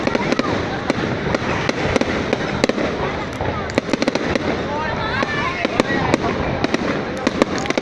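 Fireworks burst over a crowded bridge in a rapid, irregular series of loud sharp bangs, with people talking nearby throughout.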